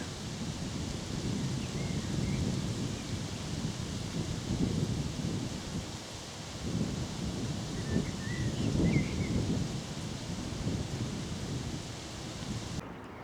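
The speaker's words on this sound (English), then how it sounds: "once again I come to Houghton House and it rains" Steady rain falls outdoors on a countryside walk near Houghton House, Ampthill, with a continuous broadband wash, gusts of wind buffeting the microphone, and a few faint distant bird calls.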